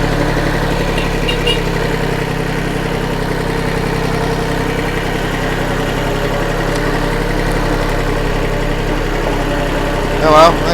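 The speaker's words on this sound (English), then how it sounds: "there goes Farmer Fudge on his tiny tractor" A small Iseki tractor engine idles steadily with a low, even chugging hum that holds at the same level throughout, nearby and fairly loud.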